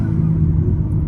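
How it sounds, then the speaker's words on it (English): Deep, low rumbling burble from a BMW G80 M3 exhaust with a valve controller, idling nearby, steady and throaty with no voices. "burbling that this car is doing now. Oh my god, it sounds so much louder."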